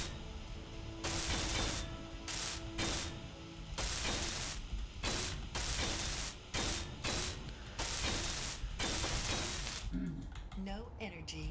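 A welder tool in the Space Engineers video game fires in repeated rhythmic bursts of harsh mechanical buzzing, starting and stopping every second or so, loud and close, ending with a few clicky electronic blips.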